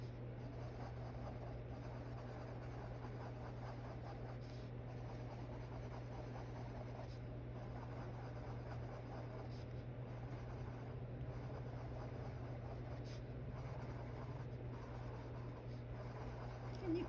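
Black Widow colored pencil shading across paper, soft continuous scratchy strokes in a steady rhythm, close and quiet over a low background hum, with brief pauses between strokes and no talk.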